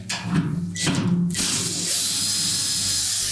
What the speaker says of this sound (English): carefully in sequence loosen the longer screws